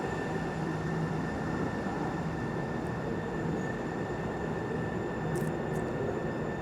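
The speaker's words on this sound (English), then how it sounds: "there should be a train emerging at any moment" A light rail train approaches in a tunnel, rumbling steadily in the enclosed space, a constant low roar with faint high squeals from the wheels.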